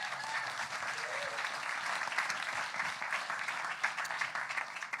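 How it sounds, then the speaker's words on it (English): A convention crowd at the Libertarian Party of California 2023 gathering applauds the secretary with steady, moderately distant clapping that holds evenly for several seconds. "So give him another round of applause."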